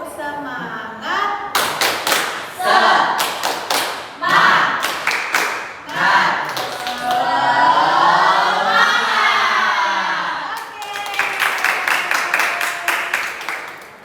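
A young group performs a rhythmic 'tepuk semangat' clapping chant as an ice-breaker in a group counseling session, with bursts of sharp claps in patterns alternating with chanted voices, close and lively.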